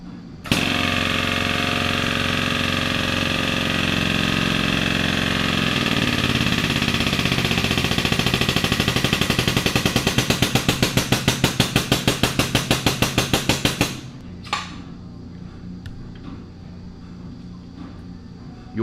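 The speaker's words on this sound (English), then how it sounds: "begin to crimp the fitting and continue to apply pressure to the crimp until the die ring bottoms out on" Loud and close, a Parker MiniKrimp crimping machine runs with a steady motor whine that turns into a rapid pulsing beat as it presses a hose fitting, then cuts out abruptly, leaving a quiet room.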